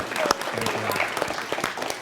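Audience clapping fills a lecture hall at a talk on wrongful conviction and exoneration, steady applause sustained for about two seconds with a voice speaking over it.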